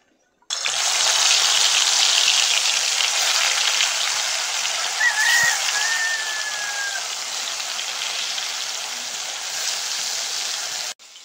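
Silver carp fish heads frying in hot oil in a wok make a continuous, loud hissing sizzle. It starts suddenly, holds steady for about ten seconds, then cuts off abruptly.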